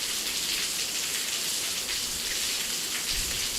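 Heavy rain pouring down during a baseball game, a dense, steady hiss of drops drumming on surfaces, constant and close with no voices.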